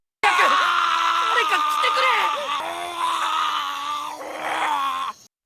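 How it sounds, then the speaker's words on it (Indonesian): A monster dragon lets out a storytelling roar, a loud voiced growl that wavers and bends in pitch and runs continuously for about five seconds before cutting off. "yang terdengar hanyalah auman monster"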